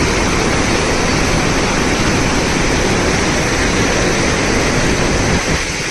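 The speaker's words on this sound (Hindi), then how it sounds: "सेंट लॉरेंस रिवर पर बना ये वाटरफॉल" Montmorency waterfall on the St. Lawrence River in Quebec, Canada, a loud, continuous broadband roar of falling water, steady and close throughout.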